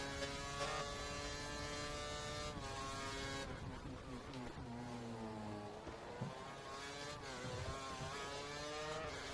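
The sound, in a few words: racing car engine accelerating in the video game F1 2013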